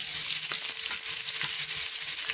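Ginger sautéing in a hot pan, a continuous bright sizzle and crackle heard up close, with faint stirring taps and no voices.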